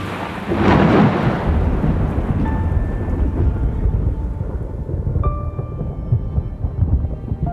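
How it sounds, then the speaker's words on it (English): A deep roll of thunder rumbles over a constant wash of rain, fading into steady heavy rainfall with a few faint tones. "Another flash of lightning and a mighty cry of thunder sounded in the background"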